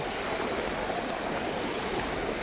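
Sea waves wash steadily onto the shore at Station 1 beach in Boracay, a continuous broadband rush of surf with no talk over it.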